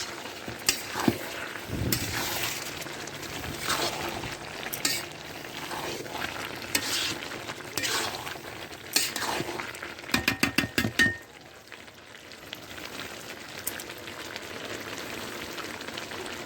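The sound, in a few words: stirring shrimp and bottle gourd curry with a spatula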